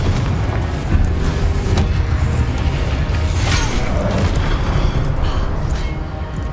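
A Confringo fire-blast spell going off in the Hogwarts Legacy video game, a loud sustained booming rumble with crackling bursts layered over it, dense and continuous across the whole stretch.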